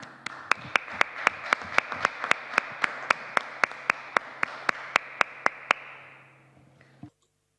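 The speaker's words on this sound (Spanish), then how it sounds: "Un aplauso." Applause at a constitutional convention commission session, with a strong, regular run of single sharp claps standing out over a softer spread of clapping before it fades to silence.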